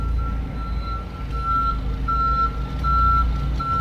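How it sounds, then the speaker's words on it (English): Steady electronic reversing beeps repeat at a regular pace over the low rumble of an idling truck engine, fairly close by, as a machine is hauled out of a lowrider shop. "If you guys can hear that beeping in the background too,"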